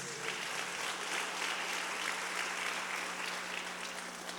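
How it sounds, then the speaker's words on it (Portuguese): A church congregation claps continuously in dense, even applause that holds steady throughout, filling the room without any voices standing out. "Se você recebe essa palavra, aplauda o nome do Senhor Jesus."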